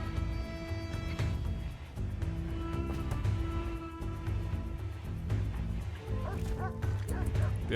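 Dogs barking and yipping with a faint whimper in the RimWorld Royalty video game, short yaps repeating over steady game music and ambient sound throughout.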